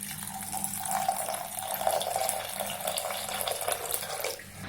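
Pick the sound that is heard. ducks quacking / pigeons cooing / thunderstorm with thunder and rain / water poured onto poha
water poured onto poha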